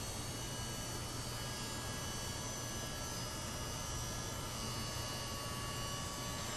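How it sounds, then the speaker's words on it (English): A heat gun blows hot air at a workbench while plastic milk jug is being softened: a steady, even whooshing roar with a faint electrical hum underneath, unchanging and fairly quiet throughout. "this heat gun, if I put it up on high, it has a tendency to flip the breaker down here in the workbench"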